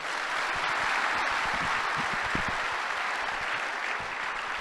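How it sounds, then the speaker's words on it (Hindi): Applause rolls through the audience at an Amway Diamond celebration: a steady wash of many hands clapping at moderate volume, unbroken from start to finish. "तो एक बार दोबारा से तालियां लगा के दिखाइए इनके लिए।"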